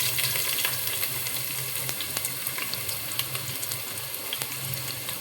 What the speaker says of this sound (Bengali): তো এখন বেরেস্তার তেলে আমি পেঁয়াজ দিয়ে দিব।